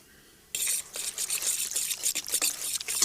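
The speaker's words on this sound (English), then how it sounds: "A bit of water." Water poured into a bowl of eggs and breadcrumbs, starting abruptly after a quiet moment as a splashing trickle mixed with clinks and stirring, close and fairly loud.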